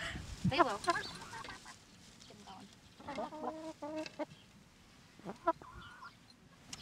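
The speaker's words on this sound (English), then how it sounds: "They're silky bantams. So they're white and fluffy with blue kind of combs and beaks." Several white silkie bantam chickens cluck and call in short, uneven bursts at close range, with quieter gaps between the calls.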